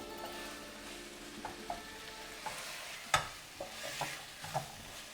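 Potatoes being dry-roasted in a pan make a quiet, faint sizzle while a utensil scrapes and knocks against the pan now and then, including one sharper clack midway.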